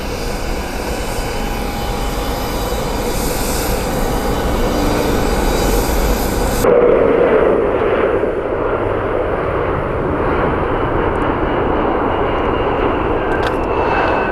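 A Southwest Airlines jet at Columbus Glenn Airport gives a loud, steady broadband engine roar that holds throughout, with the high hiss dropping away partway as the jet passes.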